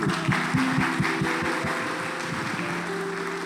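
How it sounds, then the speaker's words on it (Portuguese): Audience applause fills a church conference hall: dense, steady clapping at a moderate level, with a low tonal hum underneath, tapering slightly toward the end. "Uma salva de palmas aí."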